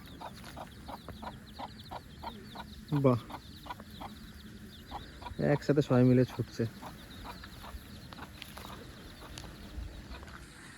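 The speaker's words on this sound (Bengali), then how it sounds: "দেখুন কত মুরগি আর বাচ্চা" Chickens and chicks in a tribal village in Purulia, with rapid high peeping from chicks throughout and a few louder clucks from hens, while a person speaks briefly.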